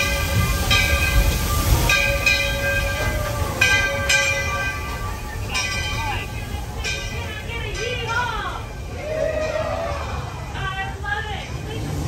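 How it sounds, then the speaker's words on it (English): The Walt Disney World Railroad train at Magic Kingdom rumbles and rattles steadily along the track, with squealing wheels and clanks throughout, a passenger's view of the ride with faint voices in the background. "we're gonna head over on the Walt Disney World Railroad to head back to Main Street"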